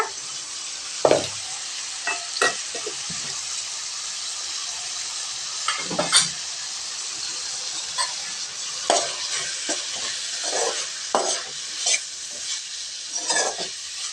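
Spices sizzling and frying in hot oil with intermittent scraping stirs of a spoon against the pan, steady hiss underneath.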